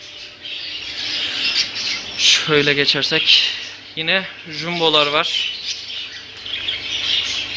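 Budgerigars and parrots in a pet shop squawk and chirp steadily throughout, with someone talking over the birds in the middle.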